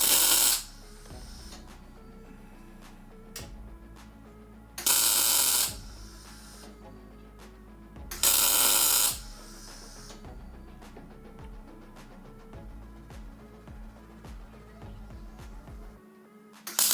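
Welding on a truck cab corner, filling in spot welds: three loud, short bursts of crackling, hissing arc sound about a second long each, spaced several seconds apart over a low steady hum.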